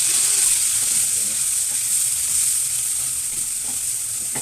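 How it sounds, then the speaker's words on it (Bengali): Ground spice masala with turmeric and cumin paste fries in hot oil, a steady bright sizzle close by with faint occasional stirring scrapes underneath, for a rui and bata fish bhuna. "এখন মশলাটা কষিয়ে নেব"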